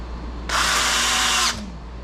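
Power drill with the clutch set low drives a 1 inch bugle head carbon steel drywall screw, one loud close burst of about a second of whining motor and grinding before stopping.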